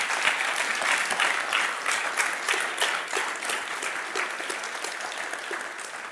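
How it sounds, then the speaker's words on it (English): Steady, dense applause from a conference audience at a building-industry keynote in New York City, a full crowd clapping loudly and continuously without pause or voices on top. "Please join me in another round of applause for John."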